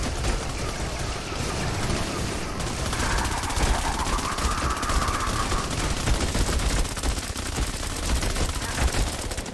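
Sustained rapid gunfire from the Burr weapon in Fortnite Save the World, a dense continuous stream of shots, loud and close, with a tonal game effect briefly rising over it midway.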